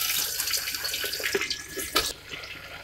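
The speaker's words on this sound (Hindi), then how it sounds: "ऑयल गरम हो चुका है, अब इसमें हम डालेंगे प्याज।" Chopped onions hit hot oil in a pressure cooker, setting off a loud, close, steady sizzle and hiss that churns on and then drops away near the end.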